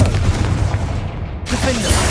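In Hogwarts Legacy, a Confringo explosion spell goes off as a loud, rumbling blast, with a second burst partway through under continuing game noise.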